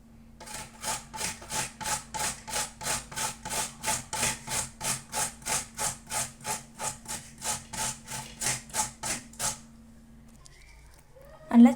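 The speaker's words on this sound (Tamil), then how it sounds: "இப்போ அதை நம்ம கேரட் துருவோம் இல்லையா, சின்ன சின்னதாக அந்த மாதிரி துருவி எடுத்துக்கலாம்." Peeled potatoes are grated into small shreds, with about twenty-five steady, even rasping strokes close by before it stops.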